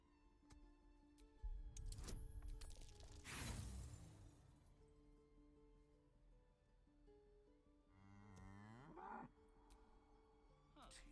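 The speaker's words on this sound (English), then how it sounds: "What does this cow have to say for itself?" A cow in the video game Baldur's Gate 3 lets out a drawn-out, bending moo near the end, after earlier crashes and shattering game effects over quiet background music.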